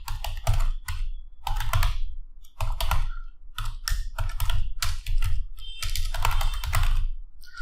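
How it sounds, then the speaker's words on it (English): Fingers tap out a mobile number on a computer keyboard in close, crisp bursts of rapid keystrokes, separated by short pauses. "Once you type your mobile number"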